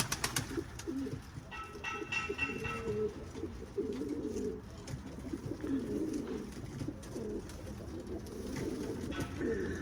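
Arab breed pigeons cooing before a flight, a continuous low, rolling murmur of coos close by with faint background noise.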